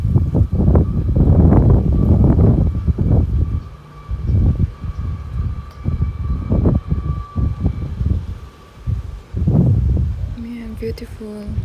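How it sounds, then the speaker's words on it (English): A heavy train rumbles past close by, a loud low roar swelling and fading in waves, with a brief horn-like tone near the end. "The train is coming."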